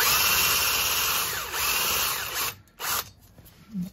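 Power tool cleaning the brake hub face on a 2017 Toyota Hilux, a steady high whirring grind that cuts out briefly and restarts in short bursts near the end, close up with no talk.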